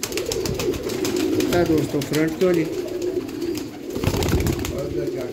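Pet pigeons coo in low throaty bursts close by, partly under someone talking, with some rustling around them.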